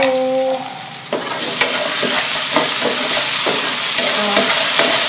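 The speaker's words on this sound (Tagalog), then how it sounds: "This is our garlic. We will add in the other wok." Garlic frying and being stirred in a wok for chicken breast menudo: a loud, steady sizzle with repeated scraping strokes of a utensil, following a brief stretch of tonal background music at the start.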